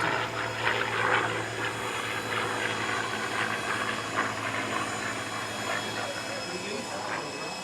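A P-51 Mustang propeller fighter flies overhead at the Edwards AFB Aerospace Valley Airshow, a sustained droning engine roar that swells slightly early and then fades, with a voice talking over it.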